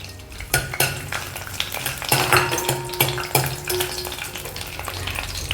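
Whole spices (cloves, peppercorns and bay leaves) fry in hot oil for a Punjabi red gravy, giving a steady sizzle punctuated by several sharp clinks and scrapes of a stirring spoon against the pan.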